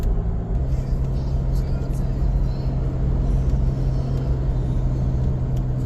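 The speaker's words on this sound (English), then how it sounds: "People are passing like they're in a NASCAR race out here with trailers." Cars towing trailers pass quickly on a two-lane road, producing a steady, loud low rumble of traffic and tire noise with a constant engine hum, and no voices.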